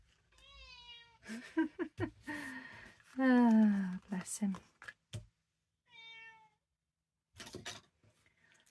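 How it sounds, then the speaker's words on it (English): A cat meows several times, drawn-out and close, with a person murmuring and sighing in between and quiet gaps. "he's just meowing, talking"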